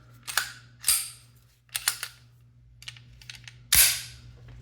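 A BP9cc handgun slide is racked several times during field-strip reassembly, giving a series of sharp, close metallic clacks and snaps spaced irregularly over a few seconds, with a final louder slap near the end.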